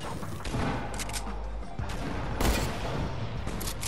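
Gunfire rings out during a Fortnite live event at Loot Lake, with rapid bursts of shots and sharp cracks crowding a dense, loud stretch of game noise and no speech.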